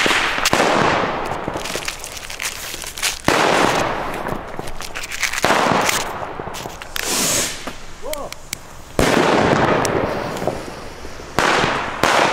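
Rapid volleys from a 90-shot Vulkan Mandarin firework battery cake crackle and bang in several long bursts, loud and close, with brief pauses between salvos, at New Year's Eve.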